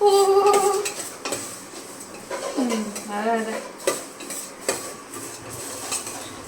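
Vermicelli roasting in a pan for old-style payasam, with metal stirring and scraping against the pan, clinks of utensils and a soft sizzle, close and moderately loud, with a brief voice in the background.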